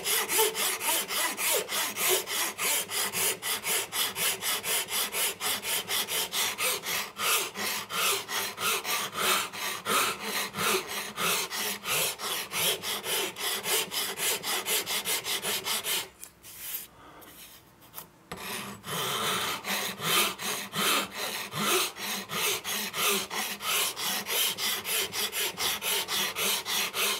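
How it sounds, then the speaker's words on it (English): Filing hardwood on the backstrap of an archtop guitar neck, with hardened glue squeeze-out, a close, rhythmic rasping of quick repeated strokes that pauses briefly midway before resuming. "The squeeze out is hard, of course, and it's filing nicely."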